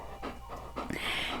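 A dog panting steadily with quick, rhythmic breaths close by, lasting about a second and a half with no talking.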